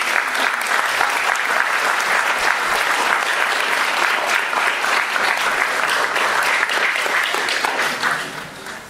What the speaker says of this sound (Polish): proszę o brawa przede wszystkim dla prelegentów